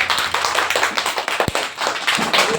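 An audience claps their hands in a short burst of scattered, overlapping claps, with one sharp thump in the middle.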